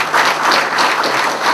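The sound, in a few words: audience applause at an inauguration ceremony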